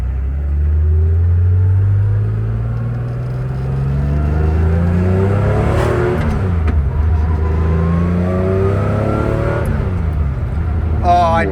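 A Porsche 911 RSR race engine gives a short throttle blip, a loud close rumble that rises and falls in pitch once before settling back to a steady idle.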